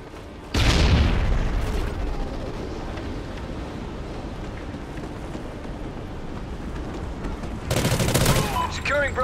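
Loud, dense gunfire and booming blasts from a Call of Duty: Ghosts multiplayer match form a continuous din, with heavier explosive bursts near the start and end.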